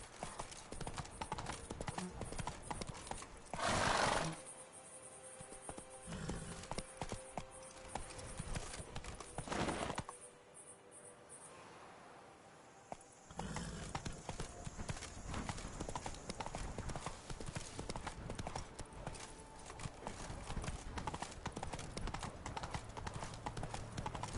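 A horse gallops in The Witcher 3, with steady rhythmic hoofbeats at close range running through most of the stretch, two brief louder bursts interrupting, and a voice speaking at moments.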